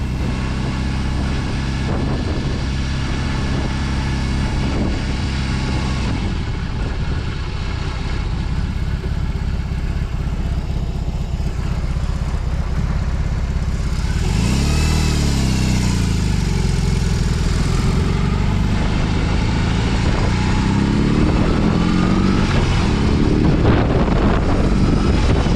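A BMW R18C cruiser motorcycle's engine drones steadily while riding, its hum rising and falling with throttle under constant wind rush across the microphone, with no speech.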